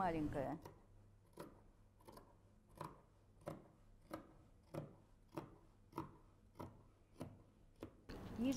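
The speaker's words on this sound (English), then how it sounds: "I'm basically cutting a stripe of fabric, which is 22 cm long" Scissors snipping through a 22 cm strip of cutwork-embroidered dress fabric, about ten separate quiet, evenly spaced cuts with a brief voice at the start and end.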